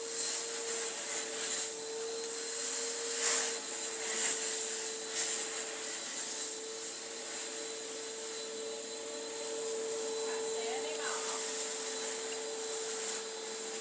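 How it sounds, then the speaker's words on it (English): A low-moisture carpet cleaning machine works over office carpet with a steady, close motor whine and hum that holds throughout, with faint scrubbing bumps and no voices. "once I clean all the carpet with a low moisture machine"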